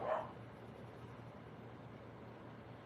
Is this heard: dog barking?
yes